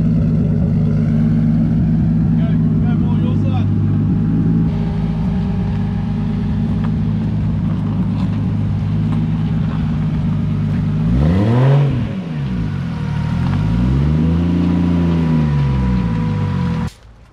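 A freshly tuned Nissan Silvia S14 with an RB25DET engine idles loudly and steadily, then revs hard in repeated rising and falling sweeps for a burnout, close and loud throughout.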